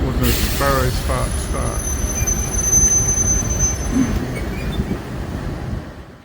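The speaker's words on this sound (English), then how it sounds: "The train's tracking along close to the coast here" A passenger train runs along the coast between Christchurch and Picton via Kaikōura, a steady rumble of wheels on rails with high squealing tones, while a voice speaks briefly early on.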